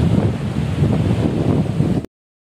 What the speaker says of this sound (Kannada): ಇಲ್ಲಿ ಚಳಿಗಾಲದಲ್ಲಿ ಈ ಥರ ಗಾಳಿ ತುಂಬ ಹೊಡೆಯುತ್ತೆ.